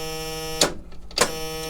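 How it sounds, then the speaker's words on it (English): Low air pressure buzzer in a bus being converted to an RV, a loud steady electric drone that cuts out for about half a second and then resumes, close and alone. "Hooked up the low air buzzer too."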